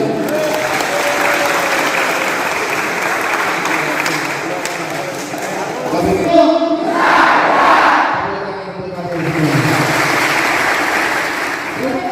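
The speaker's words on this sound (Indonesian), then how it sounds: "Tepuk tangan untuk Bayu." Students clap for a classmate during a school orientation assembly at a vocational high school, a broad crowd applause swelling and ebbing over several seconds with voices mixed in.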